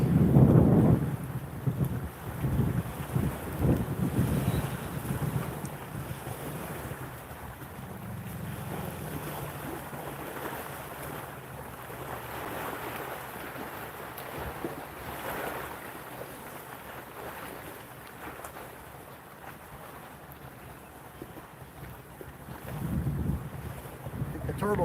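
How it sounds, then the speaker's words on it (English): Wind gusts across a lake beach and buffets the microphone with low rumbling noise that rises and falls, strongest at the start and the end, with faint water and voices underneath. "The windy beach is what they want."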